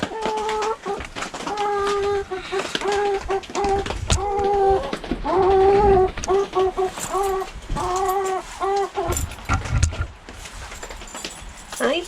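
Chickens cluck and squawk loudly and close by in a busy, repeated chorus of calls, with a voice occasionally heard among them.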